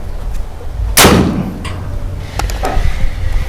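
A single sharp crack from a Predator PCP air rifle sounds close and loud near the start, followed by faint clicks and handling noises.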